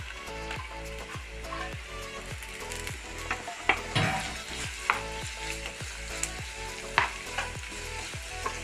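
Chopped onions frying in about one and a half spoons of oil in a pan on a stove, a steady close sizzle with repeated rhythmic clicks and scrapes of stirring throughout.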